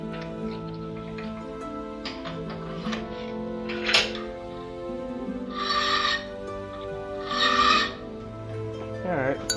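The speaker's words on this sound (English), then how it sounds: "hand filing with chainsaw files and stuff like that" Pocket knife parts for a horseshoe folding knife are hand-filed with chainsaw files, giving a few distinct rasping strokes, two of them longer and louder, over a quiet tonal background.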